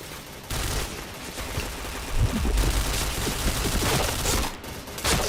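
Rapid video game gunfire, dense bursts of shots rattling continuously from start to finish, loud and close with brief pauses between volleys, no talking.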